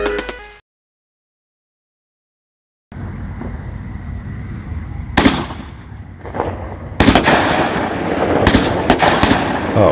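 Fireworks bursting outdoors: after a brief silence, a few loud, sharp explosive cracks and bangs come in quick succession over a rumbling background, close and prominent.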